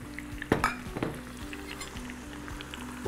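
Peppers frying in a hot pan for keşkek, a steady sizzle with a few clinks of a utensil against the pan near the start, with no talk over the frying.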